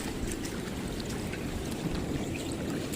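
Flood water from a high tide rushes continuously over a damaged fishpond dike, a steady close gushing and pouring flow with no voices.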